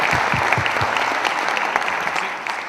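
An audience at a school jazz winter concert claps in a continuous, fairly loud round that slowly tapers, with no talk over it.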